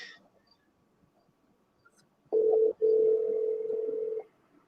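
A phone call goes out with a single steady electronic ringing tone, briefly interrupted once, lasting about two seconds in an otherwise quiet room.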